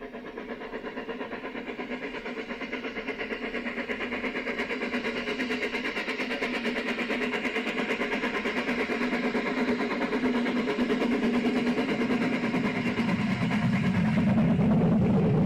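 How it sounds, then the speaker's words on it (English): A heavy steam tank engine pulling a heavy goods train chugs steadily, its rhythmic exhaust beats growing louder as it approaches and labours under the load. "Nicholas at the back, who helping Wither with a heavy goods train."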